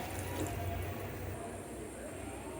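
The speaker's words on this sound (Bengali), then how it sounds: "অল্প একটু পানি দিয়ে দিব।" A little water is poured into a hot pan of spicy rohu fish curry, giving a brief steady splashing hiss nearby that stays fairly even throughout.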